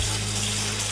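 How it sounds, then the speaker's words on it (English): Tap water runs steadily to rinse a film developing tank during E6 color positive processing, a loud continuous gushing hiss up close with no talking. "and then I'll rinse this off real quick"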